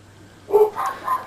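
A dog barks indoors, a few short yips and barks spaced across the moment, moderately loud over a faint steady hum.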